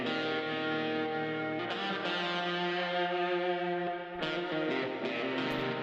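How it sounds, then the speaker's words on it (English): Melodic electric guitar line run through a Valhalla delay in a pop country production, with sustained, echoing notes that change a few times and stay loud and steady throughout, with no talking. "We're adding an electric guitar, which sounds like this,"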